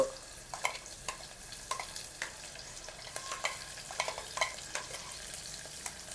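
Grated onions fry in a pan with a soft sizzle, punctuated by frequent scraping clicks of a spoon stirring them, close and fairly quiet with no talking.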